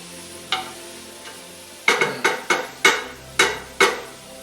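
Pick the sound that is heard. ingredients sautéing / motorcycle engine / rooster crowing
ingredients sautéing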